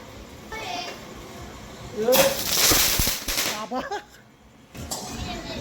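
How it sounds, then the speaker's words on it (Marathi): Firecrackers burst in a quick, loud cluster at a Tulsi wedding celebration, with children's voices before and after the blasts. "कशी आतिषबाजी झाली फटाक्यांची"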